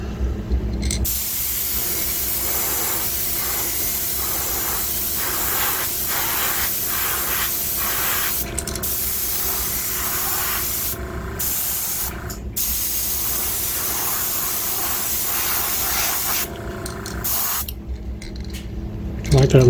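Spray paint hissing onto a fishing lure, a Wiggle Wart crankbait, in long continuous close bursts broken by brief pauses, loud and steady with faint background noise.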